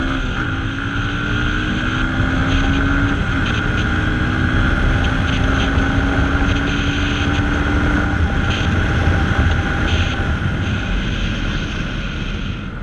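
Yamaha FZ25 motorcycle riding and turning around, a steady, close engine hum with a tone that sweeps upward and holds under strong wind rush, no talking.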